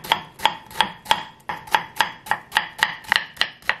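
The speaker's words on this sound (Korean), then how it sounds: "그냥 이렇게 잡고 채를 서는 게 더 나을 수도 있습니다. 이거는 곱게 안 썰어도 돼요." A knife cuts a long gourd into thin strips on a board, producing a steady run of about a dozen crisp, evenly spaced chops, close and clear with no talking.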